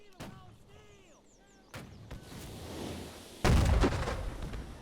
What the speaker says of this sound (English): more mortars landing on the flag point